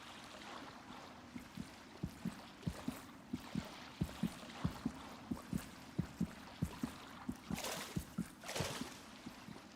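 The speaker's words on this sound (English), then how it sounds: "What was that heartbeat?" In the Hollow Knight video game, a steady heartbeat thumps in a regular rhythm over soft watery ambience, fairly faint and unaccompanied by speech.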